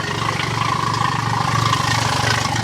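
A BMW engine idles up close with a light top-end knock over a deep exhaust rumble, a steady loud drone with a pulsing low throb.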